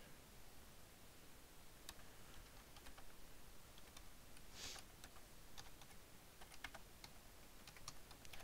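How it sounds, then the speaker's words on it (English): Faint computer keyboard typing, scattered keystrokes ticking at an uneven pace over a steady background hiss, with a brief denser flurry midway. "Type this."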